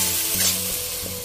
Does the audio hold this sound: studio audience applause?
no